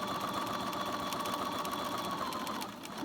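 A sewing machine runs steadily while back tacking a seam on a baker boy cap, its needle chattering in a fast, even mechanical rhythm close by, then slowing slightly at the end; no one speaks.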